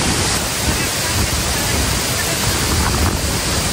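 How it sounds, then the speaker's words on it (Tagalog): Water from a waterfall pounds down in strong wind, a steady, loud, dense roar of spray and crashing water close by with no break across the span. "ang lakas ng hangin, ang lakas ng hampas ng tubig"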